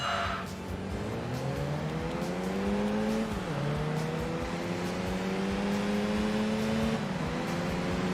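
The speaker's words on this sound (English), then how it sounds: "Oh yeah, you can hear the upgraded exhaust as well." A Mini with an upgraded exhaust races in Enthusia Professional Racing, its engine droning and rising through the gears with a brief dip between shifts, loud and close throughout.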